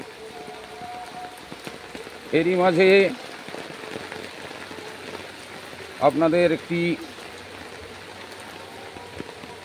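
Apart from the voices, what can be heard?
rain falling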